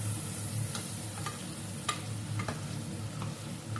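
Chopped tomatoes sautéed and stirred in a pan while cooking goat intestine gravy, giving a steady soft sizzle with faint scraping stirs and light clicks throughout, close and alone.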